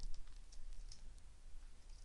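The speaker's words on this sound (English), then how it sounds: "Then I am typing in employee data." Typing on a computer keyboard while entering data into code: a faint, quiet run of light, irregular key clicks at close range with no voices.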